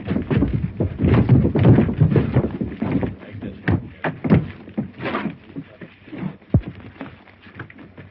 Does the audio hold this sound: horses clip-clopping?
yes